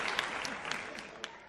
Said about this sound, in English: Y'all give Toya some claps in the chat. Give her some claps.